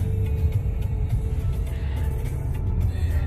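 A Harrier car's engine drones while it is driven on a road during a driving lesson, shifting into third gear. The low, steady rumble carries on throughout with no distinct shift change. No one speaks.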